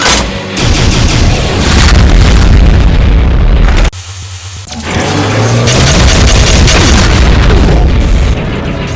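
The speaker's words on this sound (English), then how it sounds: "A wide spread of rapid BFG 10K shots." Rapid BFG 10K shots fired in a Doom mod against Cyberdemons, a dense, loud barrage of booming blasts and explosions that briefly drops out before resuming.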